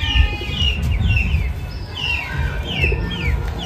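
Madrasi magnet pigeons call in a series of short chirps and squawks, close by and repeated over a steady low background rumble.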